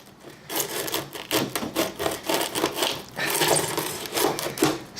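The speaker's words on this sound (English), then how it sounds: "That's why I'm using the scraper rather than just pulling it up." A scraper grinds and rasps in short repeated strokes as it pries ballasted HO scale model railway track loose from its bed, close and fairly loud, with no talk.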